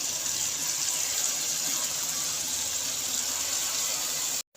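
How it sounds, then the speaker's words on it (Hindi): Boiled moong dal pours into a pan of fried spices with a continuous liquid gush and hiss, close and steady, that stops abruptly at the end. "अब इसके अंदर हमने जो दाल बॉईल की है वो हम ऐड कर देते हैं।"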